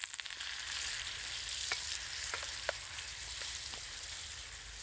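Wild fungus mushrooms fry in fat in a pan outdoors, giving a steady, close hiss of sizzling with a few sharp pops and crackles scattered through it, alone without talk.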